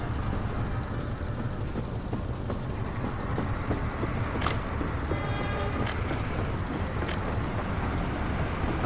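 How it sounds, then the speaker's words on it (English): Steady rumbling hum of a moving Soviet-style train in the city-building game Workers & Resources: Soviet Republic, a continuous rolling drone with a few faint clicks and ticks over it. "Our train's moving."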